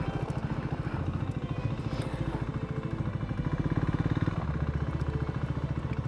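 A Can-Am Ryker engine drones off-road, a steady close rumble with rapid pulsing and faint rattling throughout.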